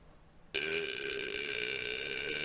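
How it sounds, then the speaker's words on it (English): A long, drawn-out tonal burp erupts suddenly during laughter and holds steady and fairly loud for about two seconds over a quiet background. "I laughed while simultaneously burping."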